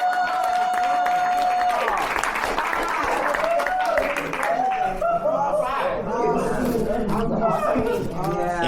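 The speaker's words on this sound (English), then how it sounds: "Let's give both our speakers another round of applause" Workshop audience at a Narcotics Anonymous event applauding two speakers, clapping mixed with cheering and chatter, with people talking and laughing over it as it fades into crowd noise.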